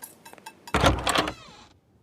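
A short series of light clicks and rattles, then a louder scraping swing of a door opening, fading out after about a second.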